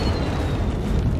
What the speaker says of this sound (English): if we just don't watch the video and listen to the explosion